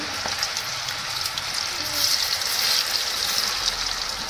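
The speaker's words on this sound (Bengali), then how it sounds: "ওইগুলো ছেড়ে দেবো। তেল গরম হয়ে গেছে।" Chickpea pakoras sizzle steadily in hot oil, a dense, even crackle that holds close and fairly loud throughout with no voices.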